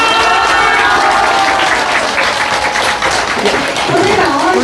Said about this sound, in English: A round of applause of gratitude for the divine being.